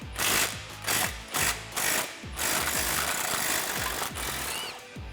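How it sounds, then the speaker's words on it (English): A 13mm socket ratchet with an extension loosens shock bolts on a Jeep Wrangler TJ, clicking in repeated bursts of rapid pawl ratcheting with brief pauses between strokes, close and fairly loud. "You're going to need a 13mm wrench and a 13mm socket."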